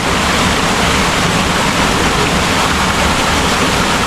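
Water pouring steadily at Kawa Kawa falls, a loud, unbroken broadband rush close by, with no voices over it.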